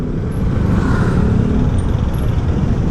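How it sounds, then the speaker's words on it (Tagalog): Road traffic noise in a city, a steady loud low rumble of passing cars and motor vehicles with no breaks, heard during a scooter ride. "Traffic."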